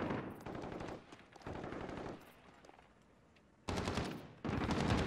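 Automatic gunfire in the video game Call of Duty: Modern Warfare, loud bursts of rapid shots separated by short pauses, with a final pair of dense bursts near the end and no speech.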